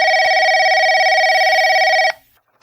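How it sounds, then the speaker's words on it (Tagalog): A telephone bell rings in a home, one loud continuous electronic trill lasting about two seconds before stopping abruptly, close and alone without speech. "Ay, umutunog ang telepono."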